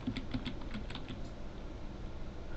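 Keys tapped on a computer keyboard, a quick cluster of light clicks near the start that thins out into quieter room tone, close and faint, with no voices.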